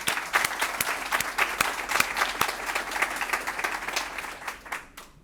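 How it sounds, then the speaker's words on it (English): Audience at a nursing school ribbon cutting ceremony applauding the nursing graduates: a round of crisp, close clapping from a crowd that holds steady and then trails off near the end. "I just think they all deserve another round of applause"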